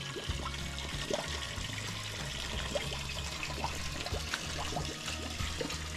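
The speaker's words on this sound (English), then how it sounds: "See? Fresh spring water." Steady trickling and splashing of running spring water in rural Jamaica, continuous and close, with a low rumbling undertone throughout.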